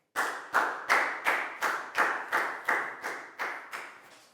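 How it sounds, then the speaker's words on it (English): A primary school classroom claps in unison, with about eleven sharp, evenly spaced claps in a steady rhythm, close and clear with no talking. "Big round of applause for Pakbung"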